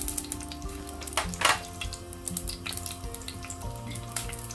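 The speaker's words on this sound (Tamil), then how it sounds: "எண்ணெய் சூடான பிறகு இதில் எடுத்து வச்சுருக்கிற கடுகு வடித்த பிறகு எடுத்து வச்சிருக்கிற பெருஞ்சீரகம், சின்ன சீரகம்" Mustard, fennel and cumin seeds sizzle and crackle in hot oil in a clay pot, a steady close frying hiss with scattered sharp pops throughout.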